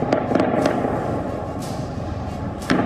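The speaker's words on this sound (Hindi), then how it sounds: "गोलियां चलने की आवाज" Sharp gunshots crack out in a few scattered bursts over a constant roar during a fire at Evin prison in Tehran, with no voices heard.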